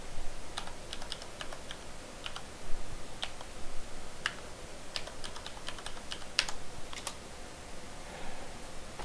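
Quiet, irregular clicking of keys on a computer keyboard as a password is typed, a few scattered taps and short bursts over a faint background hiss.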